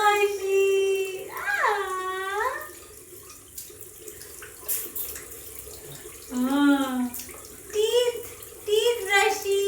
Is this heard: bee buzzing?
no